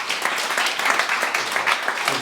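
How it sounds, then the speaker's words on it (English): An audience at a business talk applauds with a big round of clapping, dense and sustained throughout, close and fairly loud with no voices. "Can we have a big round of applause, please, for Jamie?"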